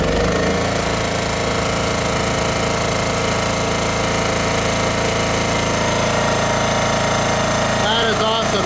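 A Honda engine with auto throttle runs at a steady, loud, dense drone for the whole stretch, heard up close with no breaks.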